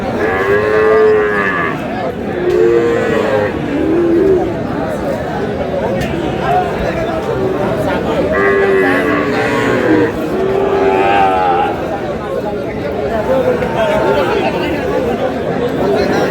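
A Sahiwal bull at a busy cattle market in Dinajpur lowing in several drawn-out moos over steady crowd chatter and bargaining voices, the calls loud and nearby.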